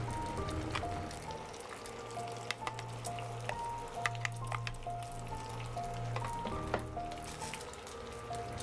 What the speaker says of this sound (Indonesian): Setelah itu telur pun siap digoreng.